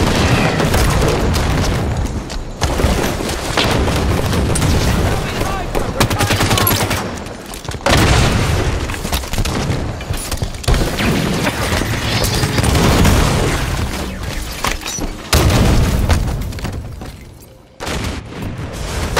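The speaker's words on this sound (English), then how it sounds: "throwing a grenade." Repeated grenade blasts and heavy gunfire from a frantic Halo 5 multiplayer match, loud and dense with bursts and booms layered over continuous combat noise, with brief voice callouts mixed in.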